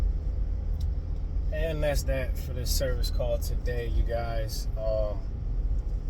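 A vehicle pulls away from an HVAC service call, its steady low engine and road rumble running throughout beneath someone talking close to the microphone.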